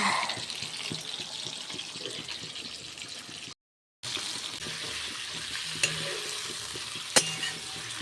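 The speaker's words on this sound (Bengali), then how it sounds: "একদিকে ভাজা করছি আর একদিকে মাছ ভাজা করছি" Fish frying in a home kitchen pan gives a soft, continuous sizzle with faint stirring clicks, heard at a moderate distance with a brief cut in the middle.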